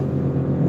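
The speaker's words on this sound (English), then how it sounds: "My car is loud." A loud car engine drones steadily from inside the cabin while driving, a dense low rumble with a constant hum and no voices.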